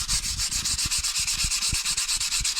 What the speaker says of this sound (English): So sanding this with a 400 grit,